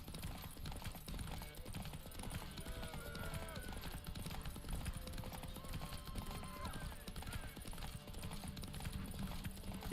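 Hooves clip-clop at a fast galloping rhythm as a horse races in The Witcher 3, the beat steady and driving throughout, with game ambience mixed in underneath.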